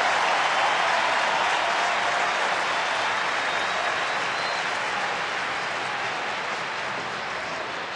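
Sustained applause and cheering from a big baseball crowd inside the Minnesota Metrodome during a Twins game, a dense, steady roar of clapping that fills the whole stretch without letting up.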